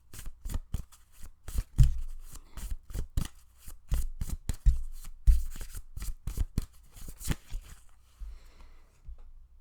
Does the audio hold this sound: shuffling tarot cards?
yes